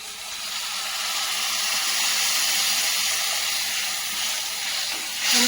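Water poured into a pan to cook leftover bhakri, a steady close hissing rush of liquid that runs for several seconds, with a brief brighter splash near the end.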